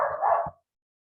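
A single short dog bark, close and moderately loud, cutting off abruptly into silence.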